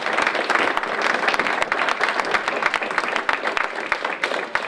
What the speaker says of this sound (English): if we can give a round of applause for the candidates for doing that